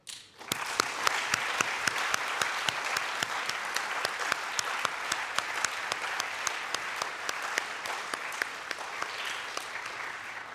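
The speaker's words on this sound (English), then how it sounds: "deserve a huge round of applause" An audience at a graduation ceremony gives a steady round of applause, with dense, continuous clapping that starts abruptly and holds at an even level throughout.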